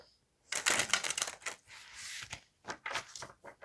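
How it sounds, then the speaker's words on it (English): A tarot deck shuffled by hand up close, a quick run of crisp papery slaps and flutters after a brief silence, then a few lighter taps. "I do also, though, like to shuffle on camera so that you guys can see that they are shuffled"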